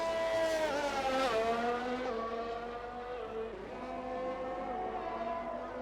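An F1 race car engine on track in F1 2021 at the Australia round, whining loudly at high revs, dropping through downshifts into a corner and then climbing again as it accelerates, with no talk over it.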